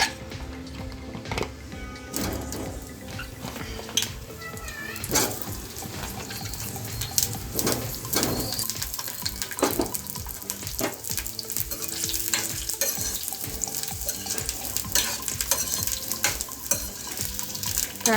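Bitter gourd pieces dropped into oil in a pan on a gas stove at low flame, a loud close sizzle with clattering stirs and utensil knocks, irregular bursts throughout, no talk.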